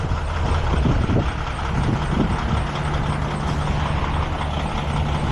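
A truck with a trailer hitched behind turns around: a low diesel rumble with hissing air and faint beeping, moderately close and steady, with no voices.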